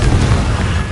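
Confringo, the explosive fire spell in Hogwarts Legacy, goes off as a loud, dense booming blast that fills the whole moment with rumbling, crackling noise.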